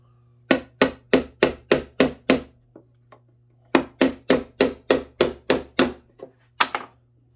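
Nails are hammered to seat them into a wooden range box for blackpowder revolvers, two runs of about eight sharp, evenly spaced close strikes, plus a few lighter taps between and after.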